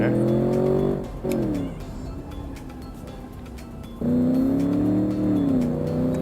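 A car in a video game speeds through a town center, its engine note loud and steady with gear changes and rising revs, a brief dip near the start and a surge back to full volume partway through, no talking.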